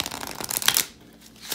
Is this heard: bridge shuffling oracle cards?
yes